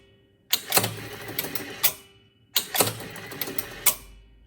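Electromechanical score motor of a 1973 Bally Circus pinball machine, shown without its playfield and not fully resetting, whirring and clacking in two bursts of rapid mechanical clicks and relay snaps, each about 1.5 seconds, separated by a short pause.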